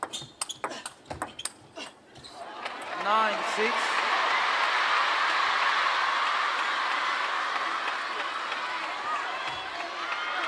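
A crowd at a table tennis semifinal in Doha erupts into loud, sustained applause and cheering after a run of ball pings, the roar holding steady for several seconds while a commentator speaks over it.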